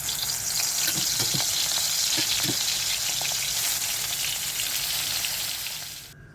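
Korosh fish fries in a shallow layer of hot oil in a pan, giving a dense, continuous crackling sizzle that stays loud and even before cutting off abruptly at the end, with no voices.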